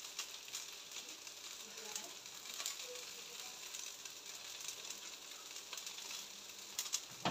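Crêpes cooking in a home kitchen pan, a steady soft sizzle of batter frying that runs throughout, with faint clicks near the end.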